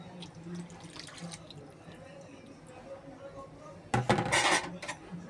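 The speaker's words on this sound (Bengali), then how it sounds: "এখন আমি দিয়ে দিবে খাসির মাংসের স্টকগুলো" Mutton stock poured into a pot of cooking chana dal, a burst of splashing liquid arriving near the end after quiet kitchen background, with someone talking beforehand.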